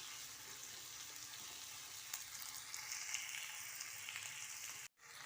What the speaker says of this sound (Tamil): இதையும் நல்லா சேர்த்து வதக்கிக்கலாம்.